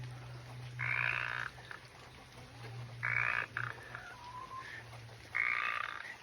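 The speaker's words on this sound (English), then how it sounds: "there's a frog living in here, you can hear it" A frog croaks from inside a mushroom-growing log, three bursts of rasping, pulsing calls spaced a couple of seconds apart, fairly faint over a low steady hum.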